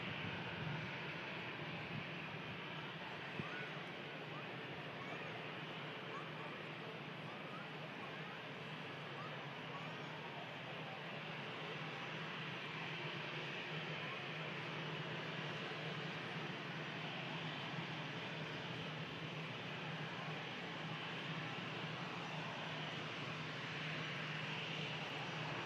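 Jet aircraft climbing out after takeoff from Manchester Airport, a steady, distant broadband engine roar held for the whole stretch at low, even loudness.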